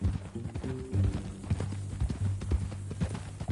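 Horse hooves clip-clop steadily at a walking rhythm in Red Dead Redemption 2, close and fairly loud, with tonal game music or ambience underneath.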